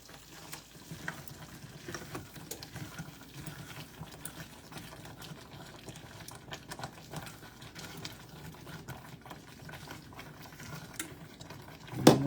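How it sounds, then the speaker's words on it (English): Grits get stirred in a pot, making a soft, busy bubbling and scraping. A spoon knocks now and then against the pot, and a sharper clatter comes right at the end. No talking. "let's stir these grits and see what they going on with them"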